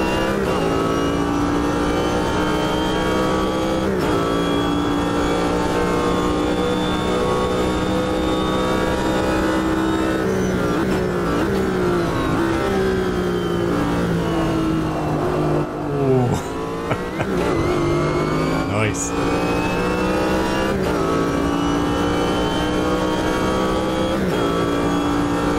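Corvette GTP Group C race car engine at full race pace at Hockenheim, captured onboard, with a loud continuous roar that rises and falls through gear changes and lifts, sustained throughout.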